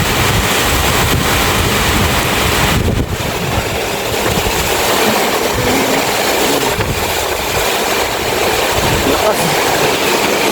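Typhoon Uwan lashing Cavite with strong wind and rain, a loud, continuous roar of gusts and downpour buffeting the microphone for the whole stretch with only brief dips.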